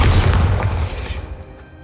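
The Bombarda spell explodes in the Hogwarts Legacy video game: a loud, deep boom with a rumbling burst that decays over about a second into quiet.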